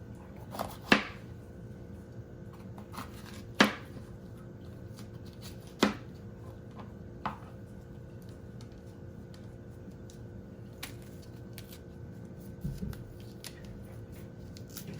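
A knife cuts through a green pepper on a board while preparing homestyle chili, making a few sharp, sparse chops spaced seconds apart, fairly quiet and separated by long gaps.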